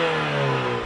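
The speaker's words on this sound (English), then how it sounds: "black exhaust tips with the sport exhaust. That actually sounds pretty decent from the outside." A 2023 Porsche Macan T with sport exhaust revving, a loud, close, steady engine drone held for under a second with no voices.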